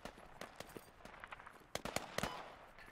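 In the video game Squad, an M249 machine gun fires in quick bursts on the Logar Valley map, the shots faint and distant, with a few louder cracks near the end.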